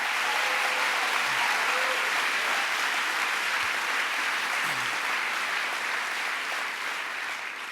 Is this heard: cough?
no